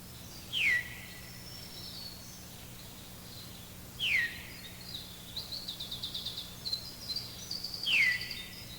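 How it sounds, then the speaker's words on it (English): A Veery gives three clear, downward-slurred "veer" call notes spaced a few seconds apart, with faint higher chirps between them over a quiet, hissy background. "listen to the Veery's call note, a vocalization that seems to repeat the bird's name"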